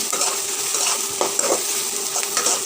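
Whole spices with cloves and cinnamon pieces stirred and fried in a hot pan for a jackfruit recipe, a steady close sizzle with scraping stirs and light utensil clinks, no voices.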